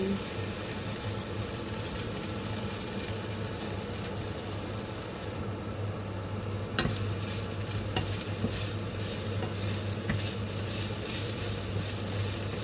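Chinese sausage and fishball stir-frying for fried rice, a steady sizzle with scraping stirs and a low hum beneath, a sharper clatter near the middle.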